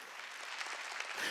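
Church congregation clapping during a Wednesday worship service, a steady broadband wash of many hands, moderately loud and continuous with no pause.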